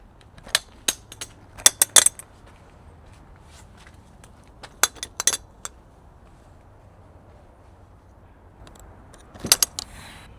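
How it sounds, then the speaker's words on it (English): Roof latches on a Four Wheel Camper being undone, giving sharp, close metallic clicks and snaps in short clusters separated by quiet stretches, with no talking. "We're gonna undo these latches"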